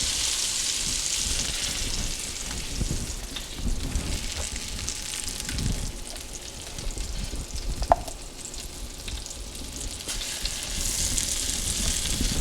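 Floured chicken pieces for chicken marsala frying in a pan, a continuous dense sizzle with light crackle, close and steady throughout, one brief clink partway through.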